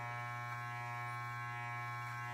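An electric beard trimmer hums steadily at close range with a constant buzzing drone and faint cutting texture, no voices over it.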